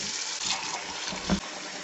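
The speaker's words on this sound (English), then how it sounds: "I'm going to strain this again because the water is still hot, and then we just add one more cold water." Hot water gushing and draining out of a pot as boiled green plantain is strained, a close, continuous rushing pour with a brief heavier splash near the end.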